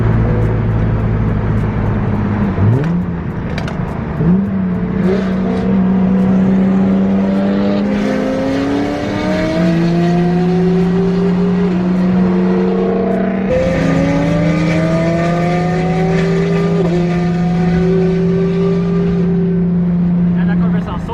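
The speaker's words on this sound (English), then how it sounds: "And that car sounds so freaking good" A turbocharged Nissan 350Z engine revving hard at a car meet, loud and close, with repeated rising and falling pitch sweeps through two long pulls.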